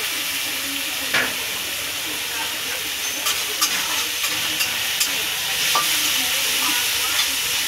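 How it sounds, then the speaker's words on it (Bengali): Onions and shrimp fry together in a pan with a steady broadband sizzle, punctuated by a few sharp clinks and scrapes of stirring; close and moderately loud, no talking. "এর সাথে সাথে আমার পেঁয়াজটা ভাজা হয়ে যাবে।"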